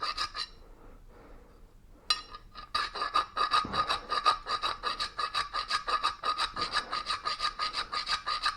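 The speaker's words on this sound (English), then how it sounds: "I'll just take a half round file and make sure that's good and clean." A half round file rasps inside the eye of a double bit axe head, its strokes steady and rhythmic, up close and loud after a brief quieter start.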